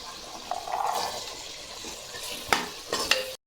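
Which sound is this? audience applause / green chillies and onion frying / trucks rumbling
green chillies and onion frying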